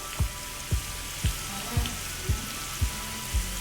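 Spices sizzle steadily in hot oil for chicken biryani with a constant crackling hiss, punctuated by soft low thumps at an even, regular pace.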